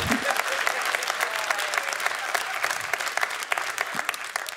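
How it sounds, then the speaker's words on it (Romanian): Dense, continuous applause fills a stand-up comedy club after a joke, a crowd clapping steadily and close for the whole stretch. "Mersi frumos de aplauze, apreciez"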